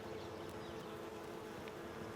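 Bees hum steadily around a hive at Kew Gardens, a soft, continuous buzzing drone heard alone at low volume with no voices.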